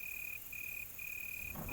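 Crickets chirp at midnight in a steady, high, thin trill broken by a few brief pauses. The sound is faint and continuous, with no voices.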